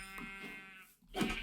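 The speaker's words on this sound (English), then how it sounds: "Found 1 sheep." A sheep bleats in Minecraft: two clear bleats, one drawn out at the start and another after a brief gap, heard alone.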